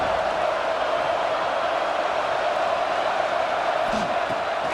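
Stadium crowd in EA Sports College Football 26 roars steadily throughout, a dense, loud wash of cheering that holds the same level without a break.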